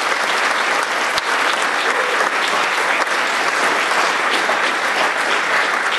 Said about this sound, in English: let's give them a round of applause for everything